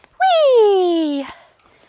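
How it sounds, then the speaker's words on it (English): A dog in the woods gives a single drawn-out whine, loud and close, sliding downward in pitch over about a second, then stops. "Yay, good dogs."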